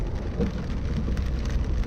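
Steady rain falling on a surface, a dense continuous patter at moderate level with no voices.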